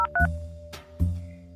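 Phone keypad dialing tones in the Sakura School Simulator video game, a few short electronic beeps spaced unevenly over about a second and a half, close and clean, with no talking.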